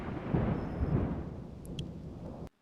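A violent rainstorm with thunder over flooded farm fields: a dense roar of rain and deep rolling rumble that gradually eases, then cuts off abruptly near the end.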